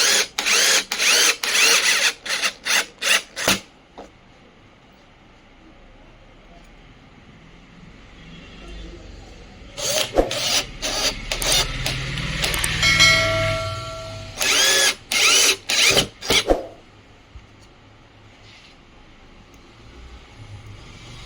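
A power drill drives screws while an eight-inch speaker is fitted into a home theater cabinet, in short loud whirring bursts with a longer run of grinding in the middle and no voices over it.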